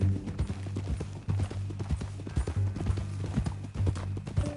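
Horse hooves clip-clop in a PS4 video game, a steady, close, rhythmic trotting beat that continues throughout over a low game background, with no talking.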